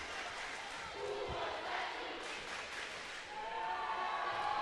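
A West Bend East student section roars and chants at a high school girls' volleyball game in a gym, a dense, sustained crowd noise that swells and dips without letting up.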